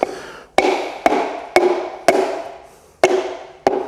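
Seven sharp wooden taps from a mallet handle tapping a tight-fitting part down during a Datsun L28 engine bottom-end rebuild, spaced roughly half a second apart, each ringing briefly before fading, close and fairly loud with no talking.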